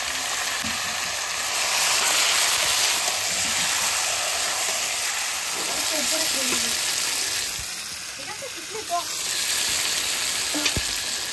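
Steady sizzling of chicken frying with onions in a pan, with occasional stirring and scraping sounds, continuous and close throughout.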